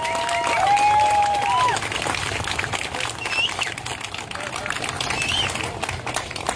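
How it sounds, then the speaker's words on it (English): An outdoor crowd at a ViVa Tampa Bay celebration applauds in steady, moderately distant clapping that lasts the whole stretch, with birdsong chirping over it. "We owe them a great hand of applause"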